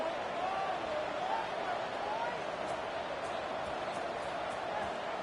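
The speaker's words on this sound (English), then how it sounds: "this crowd is buzzing after that last score" Football stadium crowd buzzing after a score, a dense steady roar of many voices with whistles rising through it, far-off and even, with a commentator speaking over it.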